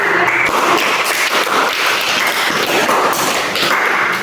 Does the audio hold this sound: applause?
yes